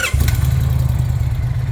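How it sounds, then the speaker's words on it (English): A motorcycle engine catches and settles into a low, throbbing idle, loud and close, running steadily after the start. "huge difference in the noise of the motorcycle"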